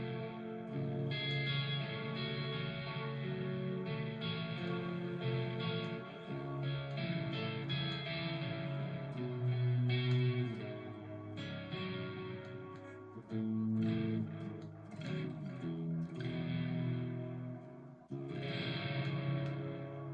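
A clean electric guitar played through a Marshall Plexi with delay, reverb and phaser rings out in ambient, sustained chords and note swells, echoing tails filling the gaps across a continuous passage with no talking.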